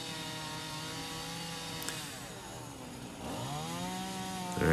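A chainsaw revs and bogs steadily while carving a cute bear figure into a wooden tree stump, loud and close, with engine pitch sweeping down and back up as it cuts.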